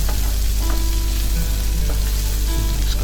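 Finely chopped onion frying in a pan gives a close, steady, dense sizzle with faint stirring, continuous and alone without speech.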